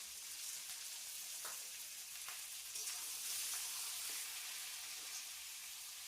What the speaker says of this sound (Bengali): সবজিটা দিয়ে চাটনিতে মিলিয়ে দিচ্ছি।